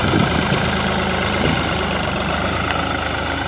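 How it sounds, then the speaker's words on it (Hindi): A tractor engine runs with a fully loaded trolley of chopped fodder, a steady, close mid-pitched diesel drone with a slight knocking texture and no pauses. "ट्रैक्टर लेके चलते हैं जी।"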